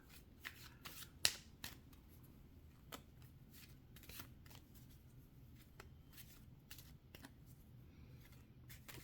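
A deck of Travelers tarot cards being shuffled close up, with a steady run of soft riffling and sharp card snaps scattered across the clip, including one louder flick early on.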